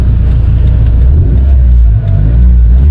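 A Nissan Sentra B14 engine idles close by, a loud, steady low-pitched rumble with an even mechanical pulse and one brief dip near the end.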